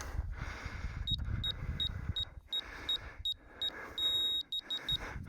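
Repeated short electronic beeps in quick pairs and bursts from a leveling tool while building a concrete form, high-pitched and clear, over a steady background hum and some low rumbling noise.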